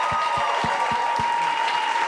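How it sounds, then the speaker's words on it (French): An audience at a comedy gong show claps, with a handful of distinct, evenly spaced claps over a steady background hum and tone. "main d'applaudissement"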